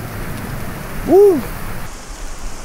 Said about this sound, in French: On est en train de se prendre un maxi orage.